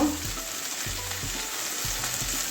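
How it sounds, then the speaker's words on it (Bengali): Okra frying in a pan with mustard and Kashmiri red chili, a steady close sizzle and hiss with soft spatula scrapes and stirring thuds, no voices. "ভালো করে ভেন্ডিটা ভেজে নেবো একটু কাঁচা গন্ধ যাওয়া পর্যন্ত"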